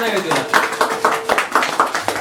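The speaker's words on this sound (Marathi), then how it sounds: "टाळ्या टाळ्या" Rhythmic hand clapping in a quick, even beat at a home birthday celebration, with voices talking over it.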